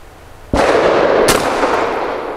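A Grand Power P45L .45 pistol fires one sudden, loud, close report that rolls into a long booming tail, followed by a fainter second crack.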